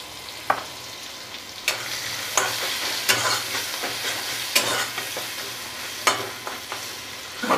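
Whole cumin seeds and turmeric fry in hot oil in a pan for a fish-head khar with brinjal and small potatoes, a steady close sizzle broken by sharp scraping stirs and clinks every second or so.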